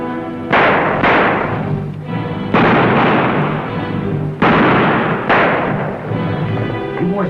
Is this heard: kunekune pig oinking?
no